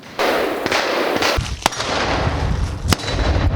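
Sharp gunshots ring out at steel gong targets during shooting training, a couple of distant cracks and two louder reports, over steady outdoor background noise.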